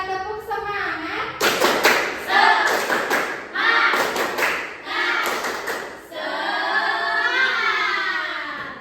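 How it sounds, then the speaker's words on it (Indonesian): A classroom group performs a rhythmic spirit clap during a micro-teaching session, with bursts of hand claps mixed with shouted chanting and children's voices, loud and close, in repeated patterned rounds. "Satu, dua, tiga, tepuk semangat."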